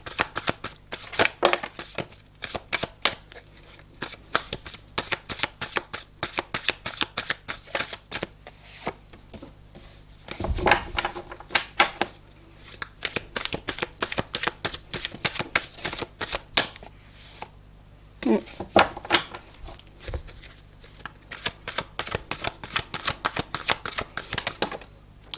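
Tarot cards are shuffled continuously for a card reading, making dense, rapid riffling and flicking close by, with a brief pause midway and a few soft handling thumps.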